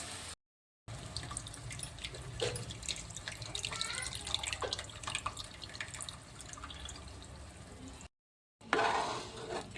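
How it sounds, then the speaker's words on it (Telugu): Tamarind juice poured into a pan of fish curry, a trickling, splashing liquid stream with small drips and clinks, quiet and close, broken by brief gaps. "ఇప్పుడైతే చింతపులుసు అయితే పోస్తున్నా"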